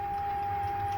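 A Neptune DOS aquarium dosing pump runs with a steady, unbroken mechanical hum at a fixed tone, droning on at an even level throughout, fairly loud and nearby.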